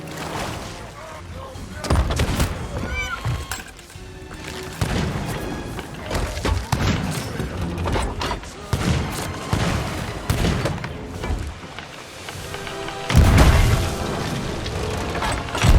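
Repeated heavy booms of cannon fire in Sea of Thieves, several loud thumps at irregular intervals over a busy mechanical background.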